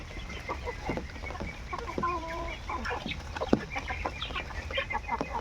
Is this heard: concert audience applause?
no